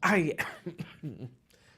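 A short, close cough and throat-clearing, a couple of harsh bursts.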